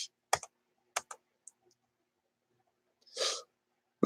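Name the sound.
typing on a computer keyboard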